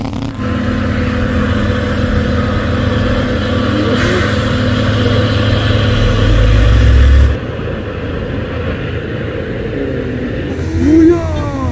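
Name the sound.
Hino trailer trucks racing uphill, engines revving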